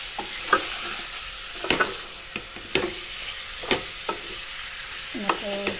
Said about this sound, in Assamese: মাংসখিনি এনেদৰে এফালৰ পৰা লৰাই যাম